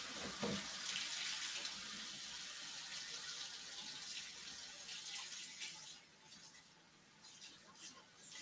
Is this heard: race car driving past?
no